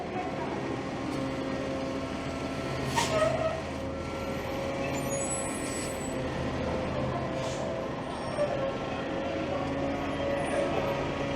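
A garbage truck idling and rumbling on a Toronto city street, with a steady engine drone and brief hissing bursts like air brakes amid traffic noise.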